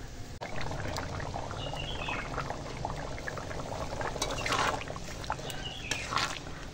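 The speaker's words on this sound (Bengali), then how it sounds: "এবার জল দেবো।" Water pours into a cooking pot of fried pumpkin and potato curry, a soft continuous splashing and trickling at moderate distance with faint clinks of utensils.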